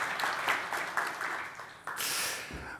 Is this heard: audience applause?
yes